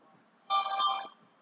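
A phone rings once in a short, bright electronic chime that stands out clearly against a quiet background.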